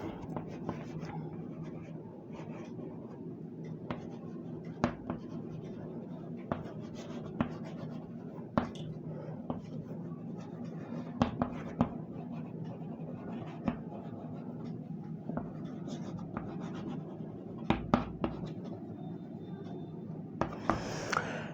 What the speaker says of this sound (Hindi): एक सेंटेंस में यहाँ लिखता हूँ,